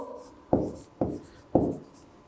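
Pen strokes on paper while a geometry construction is written out, three short scratching strokes at a steady pace, close by and quiet, with no talking.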